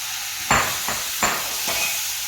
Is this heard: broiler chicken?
no